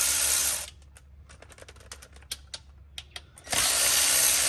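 Ratchet clicks in short irregular bursts while bolts come off a Ford BF XR6's ZF 6-speed transmission pan, close and moderately loud, between louder stretches of broad hiss at start and end.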